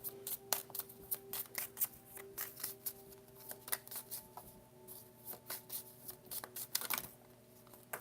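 Tarot cards being shuffled and handled up close, a quiet run of crisp riffling flicks and soft slaps in an irregular rhythm, with no talking.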